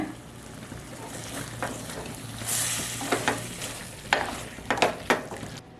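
Elephant yam fry sizzles steadily in a pan while a utensil stirs in chopped coriander and scrapes, with several sharp clinks against the pan toward the end.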